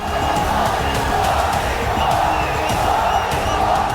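Dense crowd noise at a PM Modi roadshow in Gujarat, a steady, loud wash of many voices cheering and shouting throughout with no pauses.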